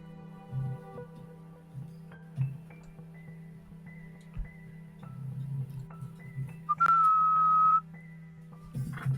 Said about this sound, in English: You hear a nice cheerful whistle and a little sparkle